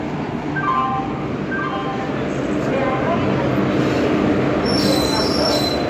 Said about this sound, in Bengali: আমাদের ট্রেন এসে গেল।